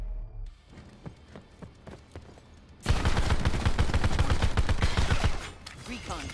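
Rapid automatic gunfire in Call of Duty: Black Ops 4, a loud sustained burst of dense shots after a quieter stretch of scattered fire, with a voice talking faintly at the start.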